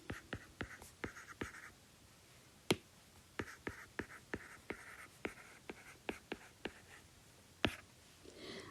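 Pen strokes of handwriting on paper, a series of short, quiet scratchy taps and brief scribbles with pauses between them, close and isolated with no speech.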